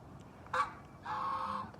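A goose at a fishing pond honks twice, first a short sharp honk and then a longer drawn-out one, fairly close and with no talk over it.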